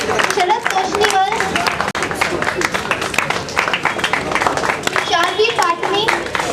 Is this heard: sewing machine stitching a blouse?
no